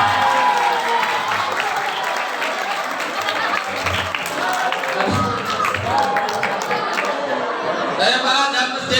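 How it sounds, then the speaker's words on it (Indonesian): An audience in a mosque gathering claps through a religious talk, with dense clapping mixed with crowd chatter and a few chuckles, continuous and fairly loud throughout. "Tepuk tangan dulu buat kita."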